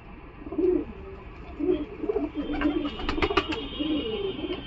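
Pigeons coo repeatedly in soft, low, throaty bursts at a Galiff Street pigeon market where Madras color pigeons are sold, with a few brief chirps and a steady background hum and no clear talk.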